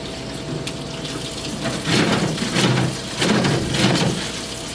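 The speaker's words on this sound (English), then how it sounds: "So when washing your hands, you want to make sure you're scrubbing for 10 to 15 seconds in between your fingers and up your arms a little bit." Hands washed under a running tap at a sink, a steady close water stream with two louder splashing surges as the hands move through it, no voices.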